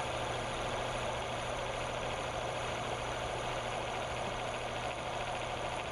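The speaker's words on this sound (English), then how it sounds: "Now we'll turn on the motor and add the load." An electric motor drives an oil bearing test rig under load, lubricated with Royal Purple synthetic oil, giving a steady, unbroken mechanical hum with a constant whine layered over broad noise, holding even throughout with no speech.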